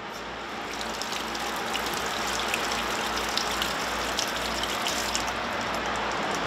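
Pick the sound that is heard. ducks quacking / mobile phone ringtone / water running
water running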